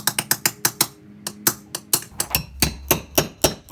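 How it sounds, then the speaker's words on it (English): A hammer knocks nails while a sliding glass patio door is being removed, a rapid series of sharp metallic taps, about fifteen strikes in under four seconds, close and fairly quiet with no talking. "my sister's giving the nails a whack"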